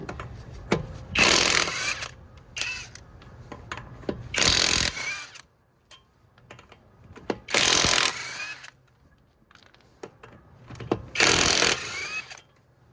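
ALLOYMAN 1/2 inch cordless impact wrench on full power removing car lug nuts: four loud rattling hammering bursts of a second or two each, separated by quieter gaps with small clicks and handling noise.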